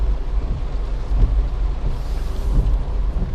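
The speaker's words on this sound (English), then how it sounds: "it is starting to rain a little bit harder now" Rain falls steadily and grows heavier, a dense broadband hiss with low wind rumble and occasional soft thumps, with no voices.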